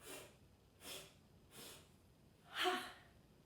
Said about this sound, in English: we're going to breathe out forcefully with the sound of ha